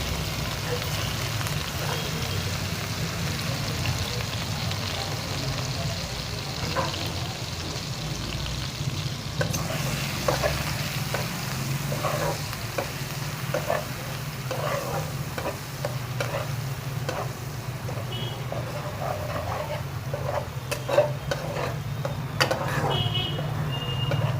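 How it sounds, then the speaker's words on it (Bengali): Chopped onions fry in a pan with cinnamon for egg biryani, giving a steady sizzle with occasional stirring scrapes throughout, under a low background hum. "পেঁয়াজটা ভাজা হয়ে গেছে"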